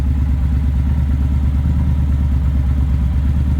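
A Triumph Speedmaster 1200 motorcycle with wrapped exhaust headers idles steadily at roughly 950 to 1050 rpm, a loud, close, even low rumble with a fast regular pulse and no talking.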